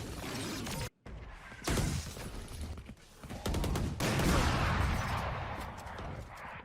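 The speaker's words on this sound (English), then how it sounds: "Couple of dueling operator shots" Dueling Operator sniper rifle shots in a professional Valorant esports match between Sentinels and FaZe Clan: loud, sharp blasts punctuate a dense, busy game mix, with a sudden dropout early on.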